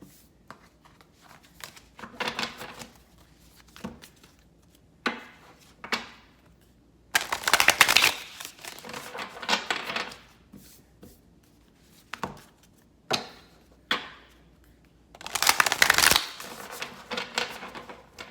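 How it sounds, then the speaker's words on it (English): Yoga cards are shuffled again and again in a quiet morning setting, giving off repeated papery riffles and flicks in bursts of varying loudness, near and alone. "let's go to the yoga cards here, and let's see what messages we have this morning"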